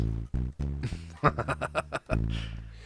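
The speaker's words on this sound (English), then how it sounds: "this is the sound of the battery dying inside the bass." A low electric bass note with a gritty, sputtering distorted tone from a dying battery inside the bass, breaking into choppy pulses before sustaining again, close and alone.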